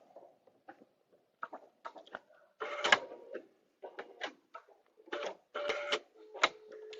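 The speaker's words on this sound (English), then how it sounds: "I'm going to sew a 1/4 inch away" Sewing machine stitching a vinyl zipper bag a quarter inch from the edge, running in short bursts of stitching separated by pauses, close and fairly loud with no talk.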